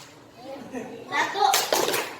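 Hands clapping in a classroom clapping game: a couple of quick claps close by at the end, with a teacher's voice calling out over them.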